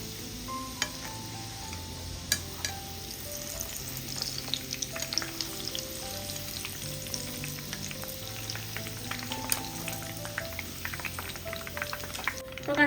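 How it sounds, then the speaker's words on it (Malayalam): Sweet potato snacks deep-frying in hot oil, giving a steady bubbling sizzle with occasional crackles under continuous background music with no talk. "ബാക്കിയുള്ളതും ഇതുപോലെ തന്നെ നമുക്ക് ഫ്രൈ ചെയ്തെടുക്കാം"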